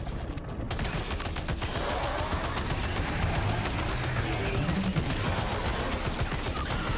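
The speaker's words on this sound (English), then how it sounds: "Machine gun." Sustained automatic gunfire from a machine gun in the video game Death Stranding 2, loud and continuous with dense rapid bursts throughout, no talk over it.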